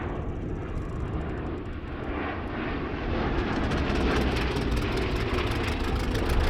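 Bristol Blenheim twin-engine aircraft passing at an airshow, a loud, sustained droning roar from its two nine-cylinder piston engines, swelling slightly as it nears, with no voices.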